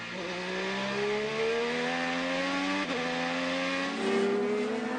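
IndyCar race car lapping Mid-Ohio in 2012, its engine screaming loud and close with rising harmonic pitch sweeps through gear changes, a brief break near the three-second mark, then climbing again.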